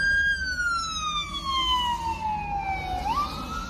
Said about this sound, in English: I always got a siren around me, man.